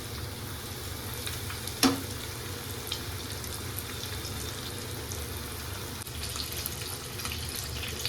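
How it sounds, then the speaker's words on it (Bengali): Lote fish fingers frying in hot oil, a steady dense sizzle throughout with one sharp clink near the start and faint bubbling beneath. "কত সুন্দর করে ভেজে নিচ্ছি"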